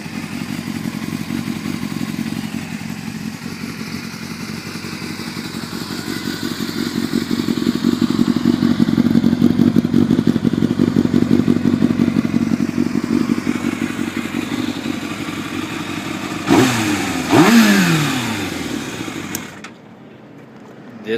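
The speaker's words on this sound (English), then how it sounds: "Bike runs really good." A 2002 Yamaha YZF600R sport bike with a carbon fiber Scorpion exhaust idles steadily up close, its rumble rising and then easing. Near the end come two quick revs with a sharp pitch swoop before it cuts out to silence.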